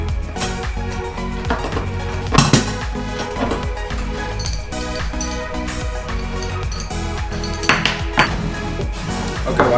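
Hard metal and plastic parts of a bait pump clank and scrape as its handle is worked off, an irregular run of knocks with a few louder sharp clacks, close and with no talk.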